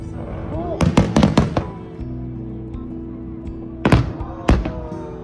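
Fireworks over a night sky in Hokkaido, seen from a fireworks boat: a quick cluster of sharp bangs and crackles, a pause over a steady low hum, then two more loud bursts near the end.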